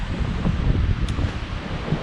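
Winter wind gusts buffet the microphone outdoors in a garden, with a steady low rumble and roar, loud and continuous throughout.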